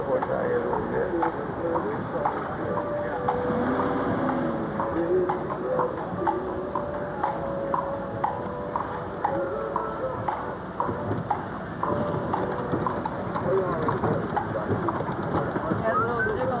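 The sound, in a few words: horse hooves clip-clopping on a cobblestone street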